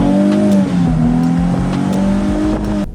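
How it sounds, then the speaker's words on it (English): Mercedes SLK 280 V6 engine revving, a loud, close, throaty tone that climbs and falls through several rev swells before cutting off abruptly at the end. "put the roof down and enjoy listening to the engine symphony"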